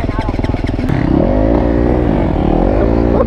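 A 450 dirt bike engine revs hard and close, a loud buzzing roar that climbs and holds steady through the clip with no voices over it.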